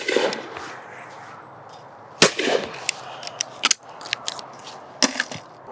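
Pairs of shotguns fired at clay targets on a shooting ground, several sharp cracking reports at irregular intervals, some close and loud, others more distant, over faint background murmur.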